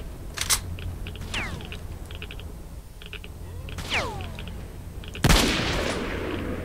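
Sniper gunfire in the S.T.A.L.K.E.R. Shadow of Chernobyl video game: a few sharp, widely spaced shots, some with whizzing ricochet tails, ending in a loud heavy blast.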